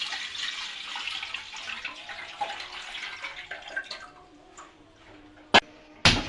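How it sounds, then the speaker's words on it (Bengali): Water poured into a cooking pot for steaming pitha, a continuous splashing pour that thins out midway, followed by two sharp knocks near the end. "আমি হাঁড়িতে জল দিয়ে দেব।"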